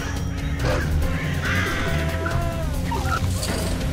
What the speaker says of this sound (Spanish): Está lleno de cuervos, ¿viste?